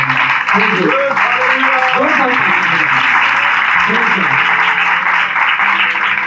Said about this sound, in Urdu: یسوع مسیح کے جلال کے لیے زوردار تالیاں بجائیں